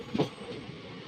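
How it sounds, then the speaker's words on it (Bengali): A crowded passenger train returning from the Kumbh Mela heading toward Patna passes on the railway line, a low steady rumble with a brief louder knock near the start, moderately distant. "এই ট্রেনটা কুম্ভ মেলা থেকে আসছে, পাটনার দিকে যাবে"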